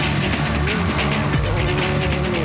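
A rally car at WRC Rally Finland runs flat out, its engine snarling close with rapid gear-change stutters and gravel noise in a short burst.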